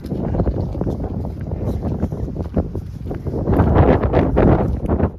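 Strong, cold wind gusts steadily against the microphone outdoors, a dense close roar that swells louder toward the end.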